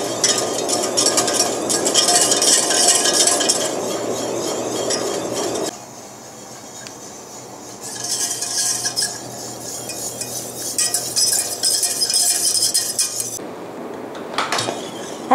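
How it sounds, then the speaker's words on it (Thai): Young-coconut tart filling thickens in a pan over a gas flame while a utensil stirs it continuously, scraping and clinking against the pan in a steady, close, uninterrupted rhythm. "นี่ก็จะต้องกวนแบบนี้ไปเรื่อยๆค่ะ"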